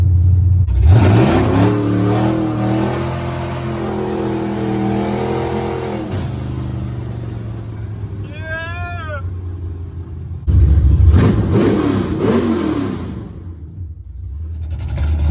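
A 1979 Camaro Z/28 with a 360 engine and open headers revs loudly through rising and falling passes, pauses briefly while a cat meows, then roars up again with harsh, raspy exhaust.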